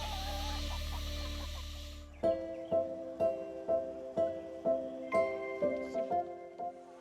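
Chickens at a farm in China cluck in a steady series of about a dozen short, evenly spaced calls, close and clear, following a brief stretch of broadband noise at the start.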